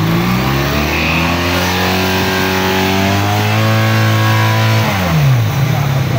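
A sport motorcycle on its stock exhaust revs hard, styled after the BMW S1000RR; the engine climbs to a loud, steady high-pitched scream, holds, then drops back sharply near the end, close and dominant.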